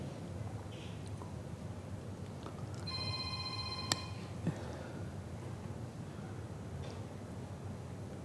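A mobile phone rings briefly in the audience at a lecture hall, a short burst of bright electronic tones over a low room murmur.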